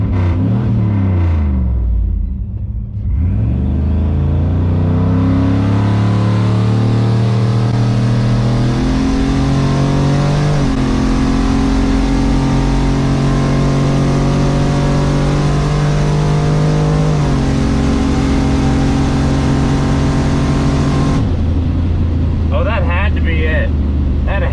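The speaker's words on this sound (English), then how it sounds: "So we're gonna run the Buick, but we're gonna drive into the second beam and get that boost built real good." A boosted Buick accelerates hard down a drag strip, its engine roaring loudly and climbing through rising revs with gear changes before the sound suddenly drops away at the end.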